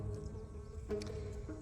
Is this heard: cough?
no